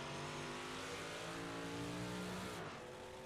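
A big-block modified race car roars on a qualifying lap at Lanier, giving a steady, distant engine drone with rising pitch as it accelerates, then easing off near the end.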